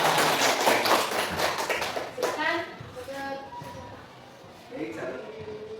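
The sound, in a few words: applause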